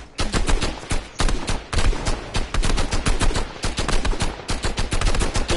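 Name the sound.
gunfire from a video game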